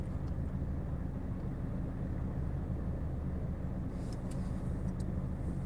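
Road traffic rumbles steadily with a low continuous engine drone from passing cars, near and unbroken, with a few faint clicks toward the end.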